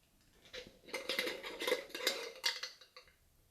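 A glass jar of coconut oil is handled up close, with a series of soft clinks, taps and scrapes arriving in irregular bursts, quiet and intimate, without speech.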